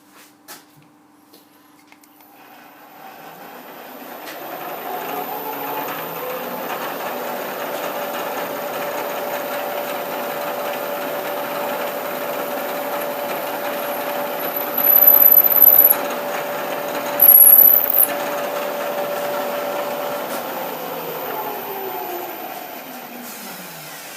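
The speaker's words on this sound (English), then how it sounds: "Just going to use the centre drill first." A centre drill in a lathe or drilling machine bores a starting hole in a stepped V pulley, a steady machine whir building up, running evenly and then winding down, with a couple of brief higher squeals midway.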